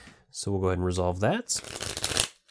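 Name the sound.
shuffling discarded item cards back into the deck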